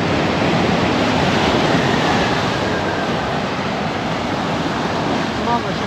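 Ocean surf breaks on a beach near Tangalle, Sri Lanka, a loud continuous roar of crashing and washing waves filling the whole stretch, close and steady.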